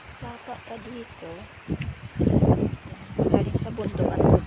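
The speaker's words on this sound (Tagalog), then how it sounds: "May sapa pa dito." A mountain stream with clean water flows through a forest with fallen coconut trees, a steady close rush and gurgle that rises and swells under and between brief spoken remarks.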